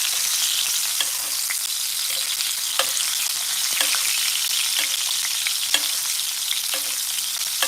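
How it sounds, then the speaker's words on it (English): A steak sizzles hard in a very hot pan while being basted, a loud continuous spitting fry broken by regular clinks and splashes as fat is spooned over it. "I'm going to baste, I'm going to keep basting. Get that pan to be super hot."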